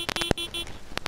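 A tractor horn gives several short, loud honks in quick succession, the bursts closely spaced and separated by brief gaps, heard alone.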